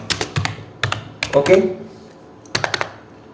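Keys on a computer keyboard are typed in short bursts of crisp, close clicks, with brief pauses between runs.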